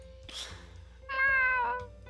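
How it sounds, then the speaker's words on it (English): A cat meows twice in the visual novel Fatal Twelve: a breathy short call first, then a longer, clearer, tonal meow. Both are heard close over a faint steady background hum. "it's the cat!"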